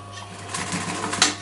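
A sewing machine runs a short lock-stitch burst finishing the seam on a cushion, a close, steady rapid clatter heard alone.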